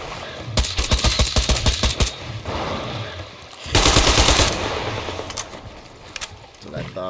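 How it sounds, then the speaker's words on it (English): Rapid automatic gunfire from the video game Metro Exodus, with bursts of loud repeated shots early and again midway, mixed with game voices and sounds. "What were you shooting at, man?"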